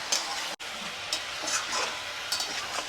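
Chicken pieces and onion frying together in a pan with panch phoron, a constant hissing sizzle with soft stirring scrapes and a brief dropout, no talk.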